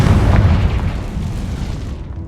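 A Confringo fire spell explodes in the video game Hogwarts Legacy, a loud, close boom that rumbles heavily at first and then fades over about two seconds without any talking.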